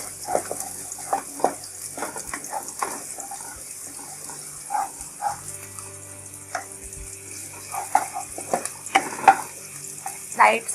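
Chopped garlic sautés lightly in a pan for chicken chow mein, heard as irregular bursts of sizzling and stirring scrapes over a quiet, watery background.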